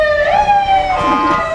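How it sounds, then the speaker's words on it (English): Emergency vehicle siren at a Veterans Day parade in Manhattan, Kansas, a loud rising and falling wail with a strong steady tone, continuous and fairly close, with no talking over it. "You hear the sirens again, you hear the wee-woos."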